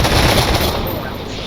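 Dense rapid gunfire in the Stormworks combat game, a continuous loud burst of automatic shots during an aerial battle against a light aircraft carrier.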